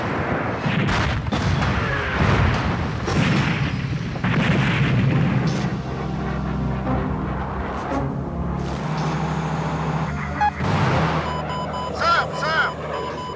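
Fighter jet weapons fire in an air-combat video game: dense booms and bursts of gunfire through much of the clip, loud and continuous, with game voices calling out over the action.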